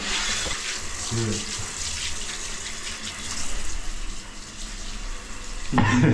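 Water runs and splashes as a bike part is washed with dish soap and water, a steady rushing stream close by, with a louder burst of splashing at the end.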